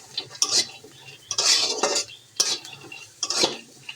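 A spatula stirs and scrapes whole onions and garlic around a dry wok with no oil, giving several distinct bursts of clattering, scraping metal at a steady pace, close and fairly loud, with no voices.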